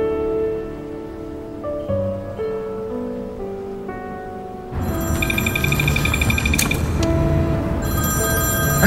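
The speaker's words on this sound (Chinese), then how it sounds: "帮我接个电话。" A telephone rings with a repeated electronic ringtone indoors, beginning midway and continuing loud and close over a quieter tonal background.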